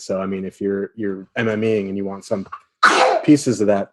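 A single sharp sneeze bursts out partway through a man's steady speech, loud and close.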